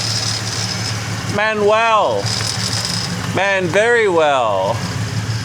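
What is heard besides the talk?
car engine running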